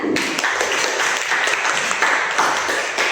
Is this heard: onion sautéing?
no